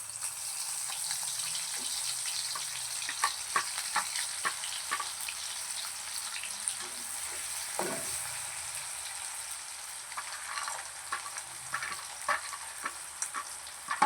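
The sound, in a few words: onions frying with mustard seeds and cumin for poha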